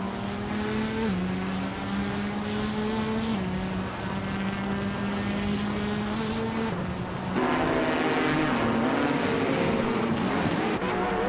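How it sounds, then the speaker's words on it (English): AI-driven race cars in a video game roar past in a loud, continuous engine whine that shifts pitch as they change gears and jump louder partway through. "It's always fun to watch these AI cars battle it out."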